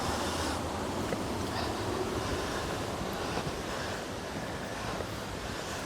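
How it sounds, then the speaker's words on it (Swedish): Water rushes and splashes steadily at Swedish canal locks, a dense, continuous roar heard close by outdoors, with wind buffeting the microphone throughout. "Det är plaskar lite på alla ställen tycker jag."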